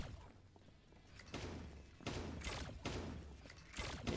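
Gunfire bursts in a video game match, several loud, broad volleys in quick succession with thuds between them, no talk during the clip.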